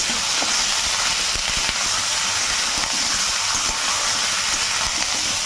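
Chicken pieces marinated with lemon and black pepper fry in hot oil, a constant loud hissing sizzle close up with faint stirring knocks, no voices.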